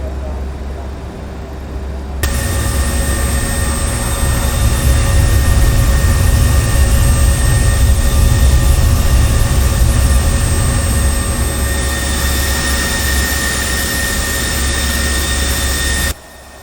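CRJ 200 regional jet engines in the X-Plane 11 flight simulator, heard up close from outside the aircraft: a loud, steady roaring drone with a constant high whine that holds for over ten seconds, then stops abruptly.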